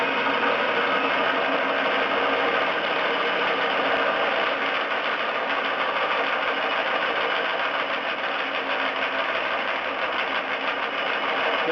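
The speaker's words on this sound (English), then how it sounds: "Just let the saw do the work." A saw in a Harbor Freight tubing notcher cutting steel tubing at moderate speed under light pressure, giving a continuous, loud, even whine and grind that holds steady from start to finish with no talk.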